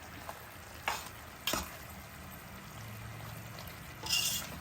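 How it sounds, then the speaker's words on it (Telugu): A kheema khichdi being stirred in a pan in Hyderabadi style, with a low steady sizzle under a few sharp scraping strokes of the spoon against the pan. "మంచిగా కలిసేటట్టు ఇలా తిప్పుకొని అడిగంటకుండా తిప్పుకుంటూ దగ్గరికి రానివ్వాలి"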